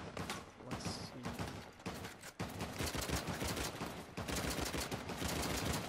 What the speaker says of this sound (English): A little bit of a slower shooting gun.